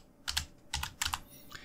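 A computer keyboard is typed on at close range, a short burst of soft plastic key clicks arriving in small clusters of two or three, with brief gaps between them.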